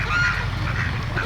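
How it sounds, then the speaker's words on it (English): Ducks flying in over open water call in a dense, continuous chorus of honking and quacking, fairly close and steady throughout the short stretch. "we've got all kinds of ducks coming in here"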